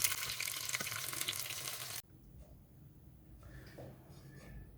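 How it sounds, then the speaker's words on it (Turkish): Cauliflower sizzles loudly as it fries in hot oil, then the crackling drops to a quieter, gentler sizzle. "kalan diğer karnabaharlarımızı da yine aynı şekilde kızartıyoruz"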